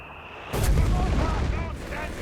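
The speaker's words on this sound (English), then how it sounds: "There you go, mortar at it." A mortar fires in the strategy video game Company of Heroes 3, a sudden heavy boom that rolls and fades over about a second, with someone talking underneath.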